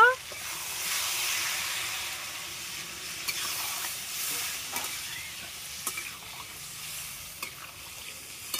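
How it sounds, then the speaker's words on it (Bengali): Water goes into a pan of sizzling taro and snakehead fish curry, setting off a loud, steady hiss and frying sizzle that gradually settles, with faint stirring clicks near the end. "বন্ধুরা এবারে আমি জলটা দিয়ে নেব।"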